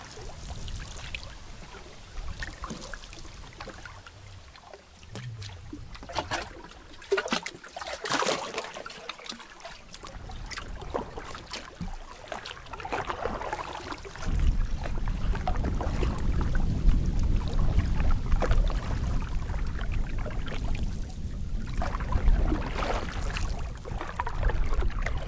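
Canoe paddling on Lake Nipigon in a burnt forest area, with steady water swishes and trickles from the strokes that grow louder and denser in the second half, with no talk.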